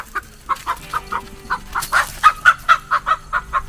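Close, repeated clucking from a chicken near a small dog, a steady run of about a dozen short bursts over a few seconds with no speech.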